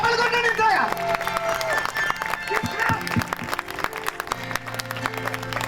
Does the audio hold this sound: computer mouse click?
no